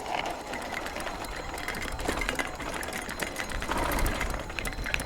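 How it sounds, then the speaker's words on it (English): Loose items rattle continuously in the basket of an electric trike with a fast, steady clatter over a rolling background hum, close by and fairly loud, while riding in Goliad State Park, Texas. "I got stuff in my basket making a rattling noise."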